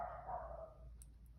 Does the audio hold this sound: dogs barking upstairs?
yes